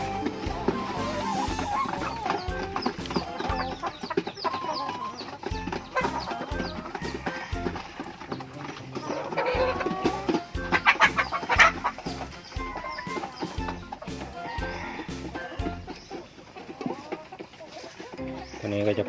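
About forty backyard laying hens cluck and squawk at feeding time, close and busy with overlapping calls and scratching, while someone talks intermittently over them.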